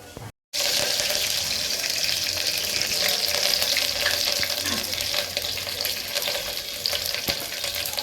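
White dosa chutney being tempered in hot oil, giving a steady loud sizzle and crackle that runs almost the whole time after a brief silent gap near the start.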